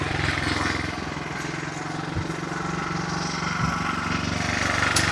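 A clutch-system power tiller's engine runs continuously close by, a loud, even, rattling chug with a couple of faint knocks and no pauses.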